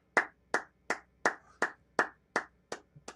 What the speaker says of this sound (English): I'm clapping for Pop.